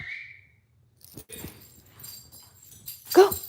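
Several dogs whimper and yip indoors as they are let outside, with a thin whine at the start and a louder burst near the end over quiet room noise.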